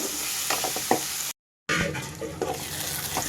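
Brinjal and tomato curry with a pinch of turmeric fries in a pan, a soft steady sizzle with occasional stirring scrapes, broken by a brief silent gap, moderately quiet and close.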